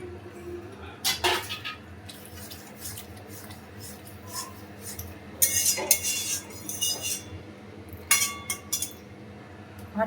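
Marinated mushrooms go into a pot of boiling curry in a home kitchen, with a few scattered clinks and metallic scrapes of a utensil against the pot over a low background hum, close and moderate.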